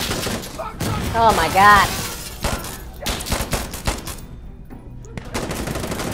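Rapid gunfire and bursts of automatic weapons crackle through a firefight in the video game Insurgency Sandstorm, loud and dense, with a man exclaiming over the shooting.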